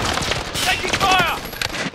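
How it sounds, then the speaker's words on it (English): Rapid gunfire in a dubbed animated scene, a steady burst of shots throughout under shouting voices and whistling effects, loud and close. "Taking fire!"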